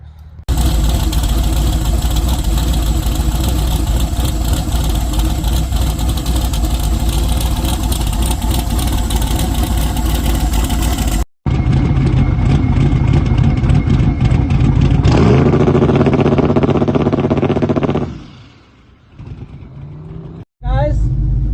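Fox Body Mustang race car engine at a drag strip, running loud and steady close by, then surging in a strong rev before cutting off and dropping to a brief low idle near the end.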